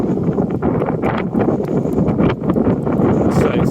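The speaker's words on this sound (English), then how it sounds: "it'd be interesting to see if we can cope with wind. It's absolutely unbelievable wind" Strong wind buffets a phone microphone outdoors, a constant loud rumbling roar with gusty rustling throughout and no clear speech.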